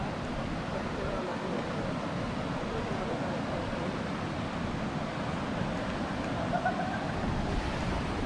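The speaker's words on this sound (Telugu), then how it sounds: "ఇక్కడ నుంచి అంటే వాటర్ అనేది ఇలా ఫ్లో అవుతుంది అన్నమాట" Steady broadband rush of water flowing at Tatiguda waterfalls in Araku, continuous and even throughout with no breaks, heard on its own without talk.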